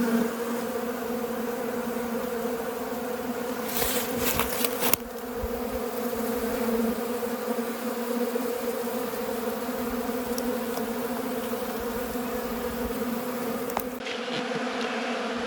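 Honeybees buzz around an open hive during a late-season inspection, a dense steady drone close by, with a burst of rustling and knocks around four to five seconds and a sharp clunk near the end.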